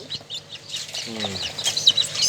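Newly hatched baby chicks on a farm with egg incubators give short, high chirps, scattered and fairly close, over a low background hum.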